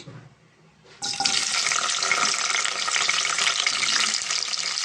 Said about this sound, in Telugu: ముందుగా మనం కర్రీ ప్రిపేర్ చేసుకోవడానికి ముందు దొండకాయలు ఫ్రై చేసుకుందామండి